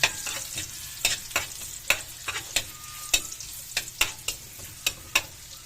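Garlic sautéing in a pan for adobong kangkong, a constant crackling sizzle broken by repeated sharp scraping stirs of a utensil against the pan, close and fairly loud.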